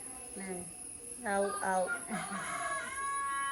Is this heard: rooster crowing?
yes